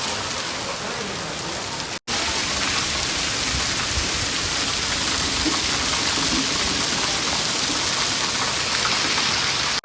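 Heavy rain driven by strong wind in a village, a dense, loud, unbroken roar of water pounding surfaces with a brief dropout partway through, no voices.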